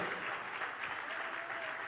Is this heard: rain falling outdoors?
no